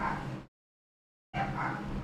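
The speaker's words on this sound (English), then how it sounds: "Drop a 1 if y'all can hear me over the dogs." Dogs bark steadily and fairly loud in two bursts separated by a stretch of complete silence.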